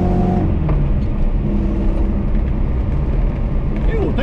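A Moskvich 2140 engine revs at half throttle, a loud, close, sustained rumble held fairly even over a few seconds, with a voice speaking over it.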